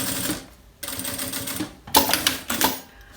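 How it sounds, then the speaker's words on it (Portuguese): Sewing machine stitching the main fabric onto a zipper for a double cosmetic case, a steady rapid mechanical whir that runs in close, loud bursts with a short pause between them. "E vou costurando o principal no meu zíper."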